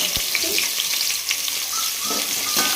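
Shallots sizzle and crackle in hot oil, a steady frying hiss close by with occasional stirring scrapes.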